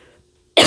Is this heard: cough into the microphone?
yes